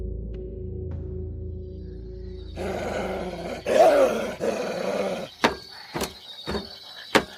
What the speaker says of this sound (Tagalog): nagising ako dahil sa mga pag-ungol sa labas ng bintana